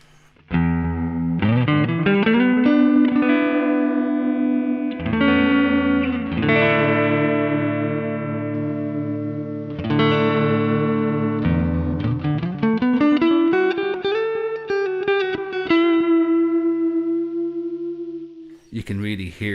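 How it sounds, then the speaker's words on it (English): Electric guitar through a modulated delay effects pedal, sliding and sustained notes wobbling with pitch vibrato and echoing repeats, loud and close with several phrases separated by brief pauses. "You can really hear the pitch vibrato that's happening there in that modulated delay."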